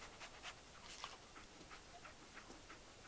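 Dogmeat, the dog companion in Fallout 4, pants softly in quick rhythmic breaths, faint and close, with light ticking bursts repeating over a low background.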